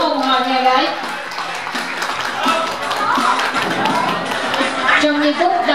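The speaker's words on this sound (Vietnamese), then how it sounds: "xin quý vị hãy dành một tràng pháo tay thật đông nhiệt để đón chào chủ hôn họ nhà gái." Guests at a Vietnamese wedding engagement ceremony clap in a room, a scattered, tapping round of applause mixed with music and voices.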